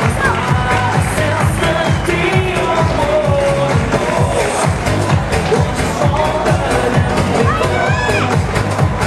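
Crowd noise and cheering at an outdoor Miss pageant final in Sanremo's flower market, loud and continuous with music and voices mixed in, the audience cheering the contestants.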